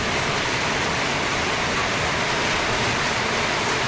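Heavy monsoon rain pours steadily near a flooded fishpond, a dense, loud, unbroken wash of water with no individual drips standing out.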